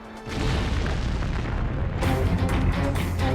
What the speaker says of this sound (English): The blast ignites the remaining stockpile of ordnance.